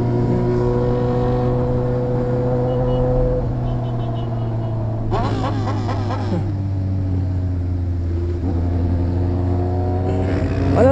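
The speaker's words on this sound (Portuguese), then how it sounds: "Não dá pra contar o tanto de moto que tem" Many motorcycles gathered at a fan meetup idle and rev together in a steady loud engine drone, with sharper revving bursts rising over the crowd of bikes.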